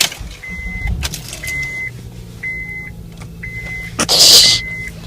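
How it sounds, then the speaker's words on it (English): A car engine starts and idles to warm up, with a low steady hum under a repeating electronic chime and a louder burst near the end. "So, we're going to turn on the car."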